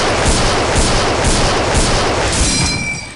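M1 Garand rifle fire in the block-building game Blockland, a dense, loud wash of gunfire and booming reports filling the short clip without pause.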